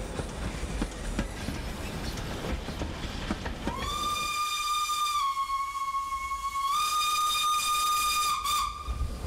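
A steam locomotive of the Velay Express hisses and rumbles as it pulls into Tence station, then a long, loud steam whistle sounds with a pitch step near the end.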